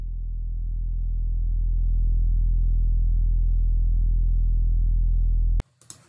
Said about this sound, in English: I added this sub sound underneath the chanting, just to give it that bed of bass